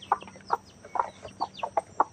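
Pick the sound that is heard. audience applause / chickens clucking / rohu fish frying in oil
chickens clucking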